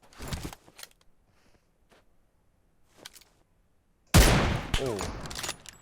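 Gunfire rings out in the mobile battle royale game PUBG Mobile: a few scattered shots early, then a loud close burst of rapid fire near the end, with brief voice fragments in between.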